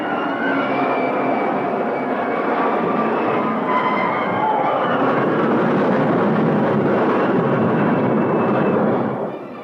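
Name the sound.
supersonic jets flying in a Godzilla film trailer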